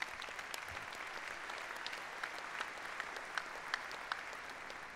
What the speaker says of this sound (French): je voudrais vraiment qu'on les applaudisse très très fort